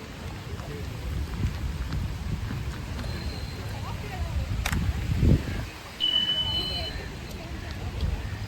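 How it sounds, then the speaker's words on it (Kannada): Steady rain falls in a public park at Sankey Tank, Bangalore, a constant wash of patter close around with a brief splash, while people chatter under it. "ಇದೇ ಟೈಮ್ ಮಳೆ ಬಂದಿದೆ"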